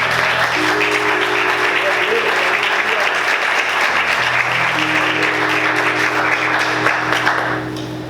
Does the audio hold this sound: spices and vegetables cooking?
no